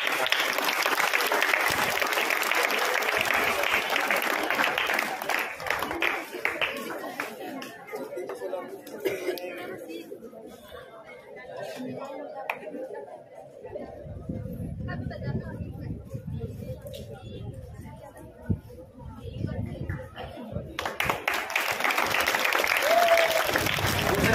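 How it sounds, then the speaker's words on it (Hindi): Students clap in a loud burst of applause at a school fair event for Gandhi and Shastri Jayanti. Chatter and talking take over in the middle, then a second round of clapping rises at the end. "सभी विद्यार्थी एक बार ताली बजा करके"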